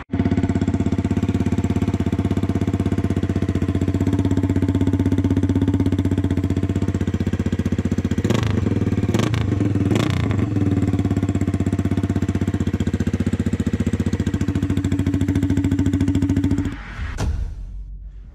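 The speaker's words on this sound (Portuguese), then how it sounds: "Curti um ronco gostoso da moto." A Honda CRF 250 dirt bike fitted with a straight pipe idles loudly and steadily in a garage. It is blipped through several sharp revs midway, then shuts off abruptly near the end.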